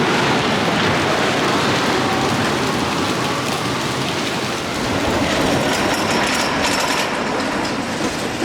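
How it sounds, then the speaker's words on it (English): Big Dipper wooden roller coaster at Blackpool Pleasure Beach, in its 102nd season, heard on the ride as a loud, steady rumbling roar of wheels on track with rushing wind noise, unbroken throughout and with no voices. "a ride on the famous Big Dipper in its 102nd season here at Blackpool Pleasure Beach"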